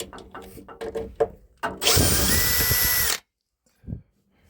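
A power screwdriver backs screws out of a Vallox 145 heat-recovery ventilation unit, preceded by a few clicks and knocks of handling, then one loud, steady whir lasting over a second, a pause, and a short faint buzz.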